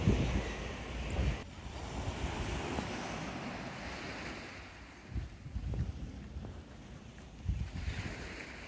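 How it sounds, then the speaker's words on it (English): Ocean waves roll onto the shore beside a seafront seawall on a sunny day, a steady rushing surf with swelling surges and gusts of wind buffeting the microphone. "Love the sound of the waves."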